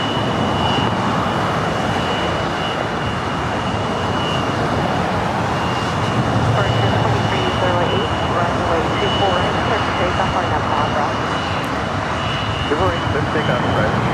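An Air France Boeing 777-300 pushes back from a west-side gate at LAX, its engines producing a continuous broad roar with a steady high whine over it, loud and unbroken throughout, with a voice talking over it.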